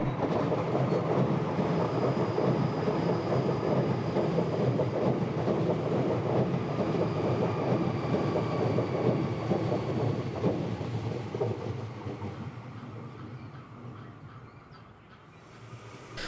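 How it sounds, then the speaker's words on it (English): A Sydney Trains Waratah B set electric train, in service since 2018, rumbles steadily past at close range with a broad roar and faint high whine, fading gradually toward the end. "This one passing us is part of the Waratah B set, which came into service in 2018."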